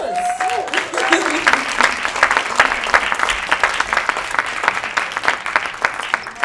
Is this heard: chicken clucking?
no